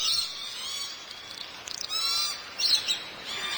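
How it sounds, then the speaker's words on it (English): Rainbow lorikeets at Bird Kingdom give shrill, high screeching calls in several bursts, close and fairly loud over a quiet background. "we are with the rainbow lorikeets"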